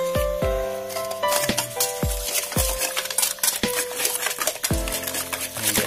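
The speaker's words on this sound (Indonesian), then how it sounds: "Lalu diaduk." A utensil stirs amplang fish cracker dough made with egg, sugar and baking soda in a bowl, giving repeated ringing clinks against the bowl in an uneven rhythm, close and fairly loud with no voices.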